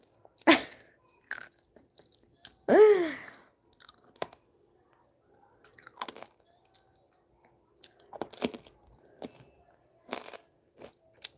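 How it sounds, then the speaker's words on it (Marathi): A woman chewing and crunching a tablet, close to the microphone, with several crisp bites and crunches spread across quiet stretches. "खाल्ली नंतर चावून टाकली"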